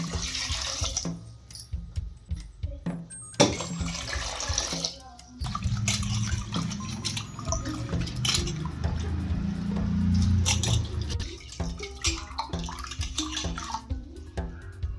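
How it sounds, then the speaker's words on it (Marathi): Water is poured over roasted black-eyed peas in a cooking pot, splashing and sloshing as they are washed, with intermittent clatter and handling noises at moderate volume. "आता पाणी टाकून ह्याला धुवून घ्यायचं आहे"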